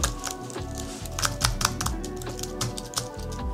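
Keys are pressed on a computer keyboard in a quick, irregular clatter of close clicks and taps that continues throughout.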